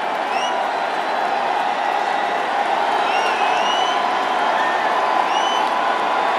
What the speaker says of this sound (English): Alford's asking for the crowd to get into it here on 3rd and goal